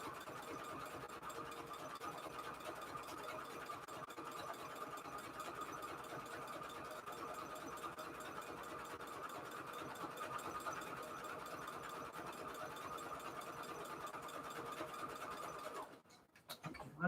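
A sewing machine stitches a junk journal in a steady, fast mechanical whirr that runs evenly for most of the clip and stops briefly near the end, faint and with no talk.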